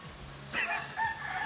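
A chicken near Dampalit Falls in Los Baños, Laguna, clucks briefly a couple of times against low background noise, the calls fairly faint and short.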